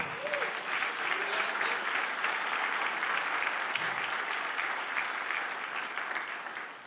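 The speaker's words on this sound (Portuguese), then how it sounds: "Então dá um aplauso a Ele." A church congregation applauding steadily and densely throughout, a continuous wash of many hands clapping at fairly even loudness, with a faint voice underneath at the start.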